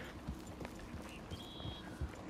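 Horse hooves clip-clopping at a steady gallop in the video game Red Dead Redemption 2, fairly quiet, with soft rhythmic thuds and no speech.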